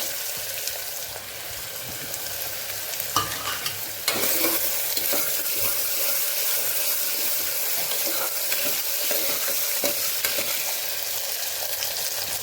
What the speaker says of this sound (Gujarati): જીરું ફૂટી જાય એટલે તરત જ આપણે બટેકા ઉમેરી દેવાના છે